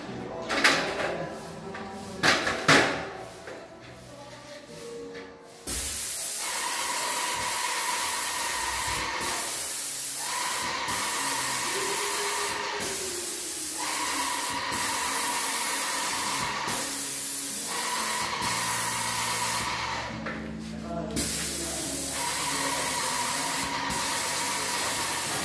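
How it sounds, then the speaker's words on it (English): A paint spray rig of the same type used in the US sprays during a whole-house painting job in the Philippines: a loud, steady hiss runs for about fifteen seconds with a few brief dips, after some quieter knocks and handling at the start. "I'm gonna show the spray pattern"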